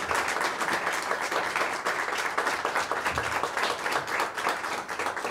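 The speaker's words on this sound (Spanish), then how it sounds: "Fuerte el aplauso para Ches Quintero." Audience applauding an artist at an evening event, dense sustained clapping from many hands throughout, steady and fairly loud.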